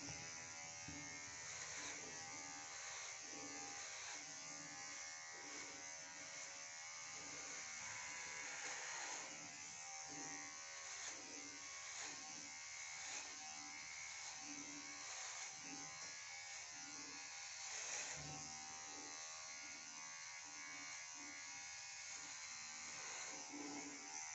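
A KM-5017 cordless hair clipper buzzes steadily while cutting hair, its motor tone rising and dipping slightly as the blades work through the hair, heard close with no talking.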